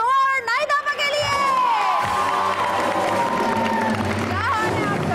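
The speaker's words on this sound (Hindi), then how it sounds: "बहुत सारी तालियां फातिमा को और नाइदा के लिए।" Studio audience in a television entertainment show cheering and applauding, loud and continuous, with a bright voice and musical tones layered over the crowd noise.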